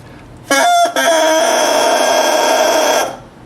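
A new bassoon reed crowing on its own, a buzzing, reedy squawk with a brief break before a sustained, steady tone of about two seconds, loud and close.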